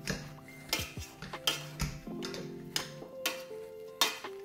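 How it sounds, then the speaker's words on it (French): Repeated dull thumps and scraping clatter of a masher pressing potatoes into a pot, irregular strokes about every half second, close and fairly quiet. "Là, j'écrase mes patates."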